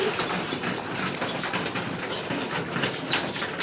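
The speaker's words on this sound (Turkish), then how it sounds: "Bakın çattaki kuşlar dökülüyor arkadaşlar" A flock of pigeons drops off a roof, their wings clattering and fluttering in a dense, continuous rush at close range, with faint bird calls mixed into the flapping.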